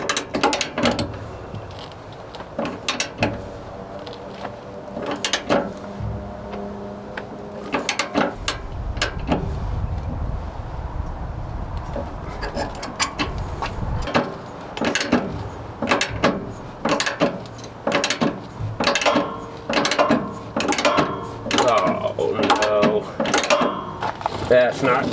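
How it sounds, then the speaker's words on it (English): A socket wrench ratchet clicks in quick repeated strokes while a bolt is tightened on a Jeep Gladiator sway bar install, close and crisp. A short low rumble runs midway, and scattered clanks fall between the bursts. "we'll just go ahead and tighten that down"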